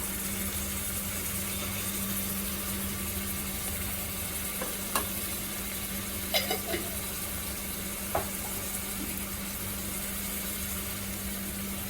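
Ginger garlic paste frying in oil with cooked onions for chicken biryani: a steady, even sizzle with a few faint clicks from stirring, close by and unbroken by speech.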